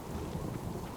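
Rain and thunder in the survival video game Subsistence: a brief, moderately quiet wash of steady rainfall over a low rumbling undertone, with no voices.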